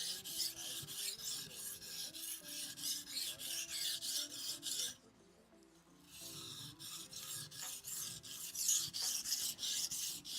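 A knife being sharpened on a sharpening stone, rhythmic rasping strokes in repeated bursts, close and clear, with a brief pause midway before the steady scraping resumes.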